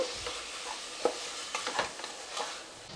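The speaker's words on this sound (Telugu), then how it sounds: "టమాటా కూడా బాగా సాఫ్ట్గా మగ్గే వరకు మనము ఫ్రై చేసుకోవాలి" Chopped tomatoes frying with spices in a pan for egg biryani, a soft continuous sizzle broken by several light stirring taps and scrapes, close and fairly quiet with no voices.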